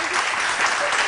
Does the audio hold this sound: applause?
yes